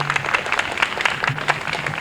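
A crowd at an outdoor German festival picnic in Carlton Park claps in a short burst of applause, many hands with distinct sharp claps, moderately close, with a faint voice murmuring beneath.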